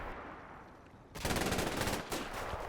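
MG42 machine gun fire in the World War II strategy game Combat Mission Final Blitzkrieg, a quiet rumbling lull and then sudden loud rapid bursts that rattle on with a short break before resuming.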